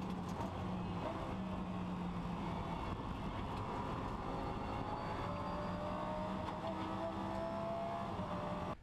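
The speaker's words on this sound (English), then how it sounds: "We're going to watch turn one at Sebring in a GT3 car." Onboard a GT3 race car at Sebring's turn one, the engine drones loudly and continuously, with rising and falling pitch as the car brakes and accelerates through the corner, alongside steady wind and road roar.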